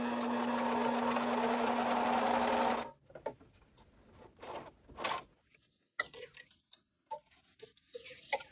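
Singer CG-550 sewing machine stitching at a 5 millimeter stitch length, a fast steady whirring hum for about three seconds that stops abruptly, followed by quiet handling clicks and knocks.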